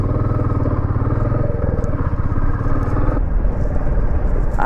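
A Royal Enfield Meteor 350 motorcycle is ridden on an early-morning road, its single-cylinder engine thumping steadily and loud close to the rider, with wind rumble and a slight shift in engine note partway through.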